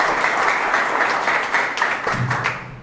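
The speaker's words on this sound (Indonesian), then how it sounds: "Kasih tepuk tangan yang meriah buat Tuhan." A church congregation at an Easter service bursts into sustained, lively applause, many hands clapping loudly and evenly before it tapers slightly at the end.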